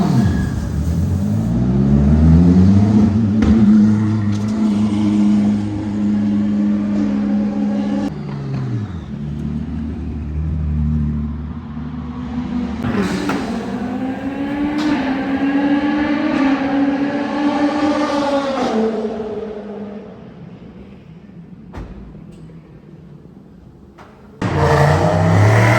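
A McLaren drives at the Spa-Francorchamps circuit, its engine loud and close, revving up through the gears in repeated climbing pulls with shifts between them, then easing before a final sharp burst of noise.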